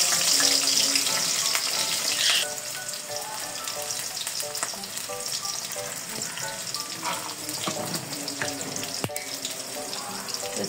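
Chopped onion dropped into hot oil in a wok, a bright busy sizzle close by with stirring clatter and a louder burst of hissing at the start that settles into steady frying.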